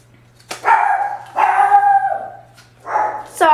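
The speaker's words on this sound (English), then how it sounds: "Sorry, that was my dog." A dog barks three times at close range, each bark loud and drawn out, with a short yelp at the end.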